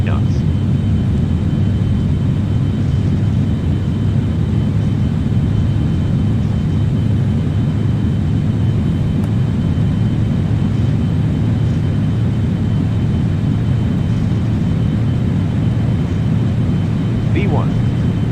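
Airliner takeoff roll in Flight Simulator 2004, a loud continuous low engine rumble and roar held steady for the whole stretch, with people talking over it.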